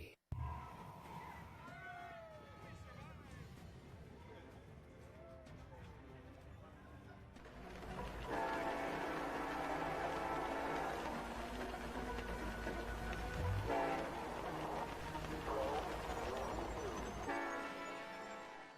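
A train rolls past along a street lined with restaurants, cafes and shops, its rumble and rail noise swelling loud and steady after a quieter opening with birds and distant city sounds, then easing off near the end.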